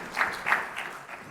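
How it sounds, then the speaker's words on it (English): Brief applause from a conference audience welcoming panelists at a hydropower and green hydrogen session, moderate clapping that swells in a few quick surges before tapering off. "you can give them a round of applause."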